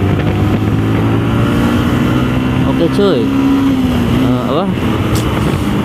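A motorcycle engine running through its stock exhaust, a steady droning hum close by with a brief rise and fall in pitch, as someone speaks over it.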